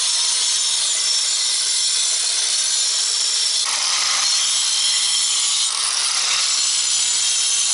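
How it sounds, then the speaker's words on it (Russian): An angle grinder cuts Kirov brick while shaping a carved fireplace cornice, a steady loud abrasive whine running throughout with slight shifts in pitch as the disc bites into the brick. "Теперь вот это лишнее нужно убрать болгаркой"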